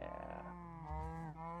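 A single Minecraft cow gives a drawn-out lowing moo, steady and close, with a brief dip near the end and no voices.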